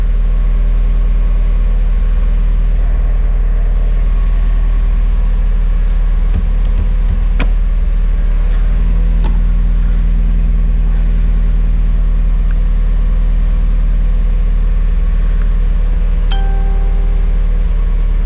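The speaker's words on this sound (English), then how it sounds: "I'm gonna wait a little longer for it to warm up, right down to where it idles at 1000, because that's some strange engine noises" A car engine idling while warming up, a loud, steady low drone close by with a constant hum and a few faint clicks and ticks scattered through, no talk.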